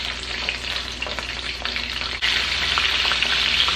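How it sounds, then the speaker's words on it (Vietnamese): Lobster claws fry briefly in a pan of hot oil, giving a continuous close, loud sizzle with faint crackles and a slight surge partway through, with no talk. "Cái này mình chỉ chiên sơ qua thôi, mình không có cần chiên kỹ lắm đâu."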